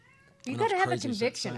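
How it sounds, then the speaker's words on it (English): A cat meows inside a shop, its cries rising close by and mixed in with a person talking over it for most of the moment. "Sorry if you hear a little cat meowing around just right it's now."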